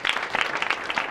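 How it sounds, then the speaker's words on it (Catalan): Brief burst of applause from a school audience welcoming an Atlètic Lleida football player, steady clapping texture over about a second with no voices. "Un fort aplaudiment per ell."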